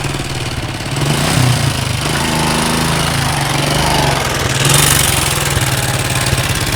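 A motorcycle taxi engine idles and revs close by with a steady, loud mid-pitched rumble that swells slightly partway through, with no voices over it.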